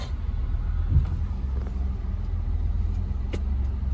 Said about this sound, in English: First car ride home.